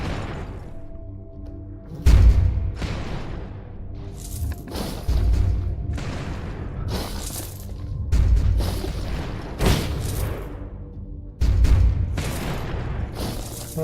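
Mortars fire in a VR tower defense game, each launch a heavy booming thump with a crackling tail, recurring every couple of seconds over a steady background din of gameplay effects.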